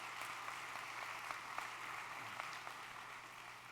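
Faint audience clapping at a South Bend Hall of Fame event, distant and thin, a soft continuous patter of hands with a low hum beneath it.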